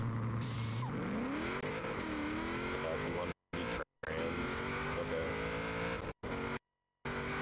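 Drag racing in Forza Horizon 4: car engines rev and climb through the gears in a rising whine, broken by a few short silent gaps, with a voice talking over the game sound.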